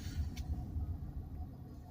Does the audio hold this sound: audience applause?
no